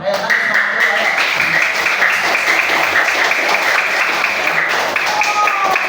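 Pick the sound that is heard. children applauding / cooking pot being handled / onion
children applauding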